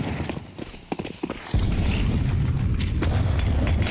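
Grenades are thrown and land during a Counter-Strike match on Inferno. A few light clatters and thuds come first, then a dense, loud rumble of blasts and game noise carries on steadily to the end.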